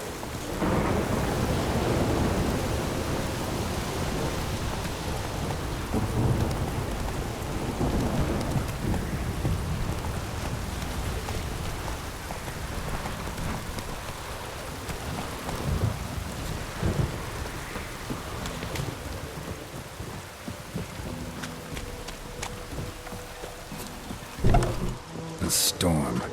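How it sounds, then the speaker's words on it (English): Rain pours steadily in the open-world game The Witcher 3: Wild Hunt, with rolling thunder rumbling loud and low through a long storm and sharper cracks near the end; a voice speaks briefly. "A storm, damn it."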